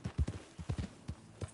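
A horse galloping in the video game Red Dead Redemption 2: a short burst of quick, rhythmic hoofbeats in uneven clusters, close and fairly loud, with no talk over them.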